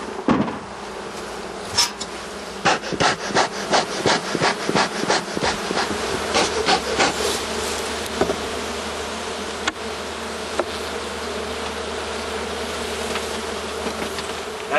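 Honeybees buzzing inside an opened beehive, a dense continuous hum close by, with a run of sharp knocks and taps from hive work in the first several seconds.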